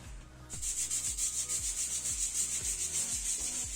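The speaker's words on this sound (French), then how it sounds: "Donc il va se lancer dans le ponçage à l'aide de la brosse métallique." A metal wire brush scrubs old glue off a surface in quick, regular back-and-forth strokes, a close, harsh scratching rasp that starts after a brief pause and continues alone.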